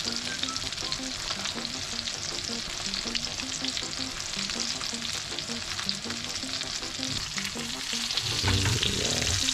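Butter sizzling and splattering hard in a hot pan, a dense steady crackle running throughout, growing louder and heavier near the end, with no voices.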